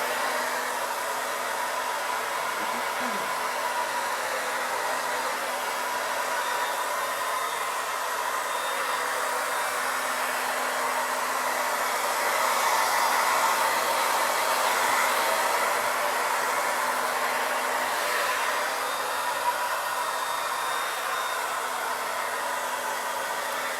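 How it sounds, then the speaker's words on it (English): A blow dryer dries white paint on a DIY sunflower porch leaner, giving a continuous, loud, close whoosh that barely changes for the whole stretch, with no voices. "Sorry about the blow dryer,"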